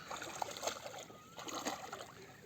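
Water splashes in several quick bursts as two people splash in the sea on the Konkan coast, some louder than others, over a steady outdoor background of moving water.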